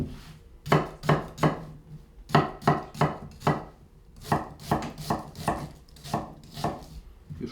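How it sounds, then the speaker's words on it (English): A knife slicing an onion on a board, about twenty crisp, close chops in uneven bursts with short pauses between groups, no speech. "So we're just going to slice an onion."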